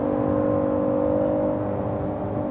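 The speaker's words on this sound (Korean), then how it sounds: "진짜 엔진음과 가공의 음을 합해서 뭔가 좀 스포츠카 같은 느낌 들지 않습니까" Inside a Kia K9, the real engine blends with a synthetic sporty engine tone while cruising in fourth gear, a steady, even, tonal drone filling the cabin at moderate loudness.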